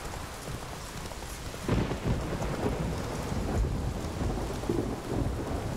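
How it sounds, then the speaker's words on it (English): Thunderstorm with rain in the video game The Witcher 3, a steady hiss of falling rain with low rumbles of thunder rolling in and swelling a few times, no voices. "We get rain a lot, but it doesn't always thunder like this, does it?"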